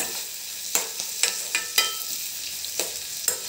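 Chopped onion frying in a pan with a light sprinkle of turmeric for mango pachadi, a steady soft sizzle broken by several sharp scraping stirs, close and alone with no talk.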